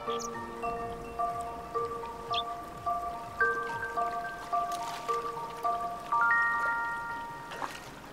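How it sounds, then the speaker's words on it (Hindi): A meltwater stream on the Tibetan Plateau flows with a steady, close rushing babble, while clear whistled birdsong phrases ring out repeatedly over the water. "बर्फ पिघलने से नदी नाले फिर से बहने शुरू हो गए हैं।"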